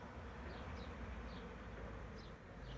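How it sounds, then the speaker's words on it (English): A swarm of bees settled on a tree outdoors, a faint, steady droning hum of many insects with a few individual bees buzzing past, heard at a distance under low background noise. "see if I can show you where the core of the swarm is"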